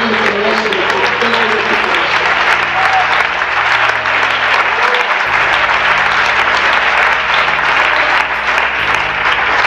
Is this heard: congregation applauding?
yes